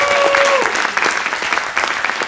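An audience at the Techstars Tel Aviv startup demo day applauds an introduced staffer, close, dense clapping at fairly high level that continues steadily, with a brief sustained tone at the start.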